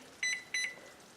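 A kitchen timer beeps twice as it is set, two short, bright electronic chirps in quick succession, each a doubled pip, faint and alone in a quiet kitchen.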